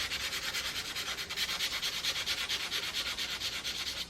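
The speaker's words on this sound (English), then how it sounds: "I want to take some sandpaper." Close, quiet rhythmic rubbing of 220 grit sandpaper over a steel antique woodworking hand tool, steady back-and-forth strokes about three per second, alone with no voices.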